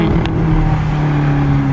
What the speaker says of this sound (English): And the little burbles, little popbacks as well, which is very characterful.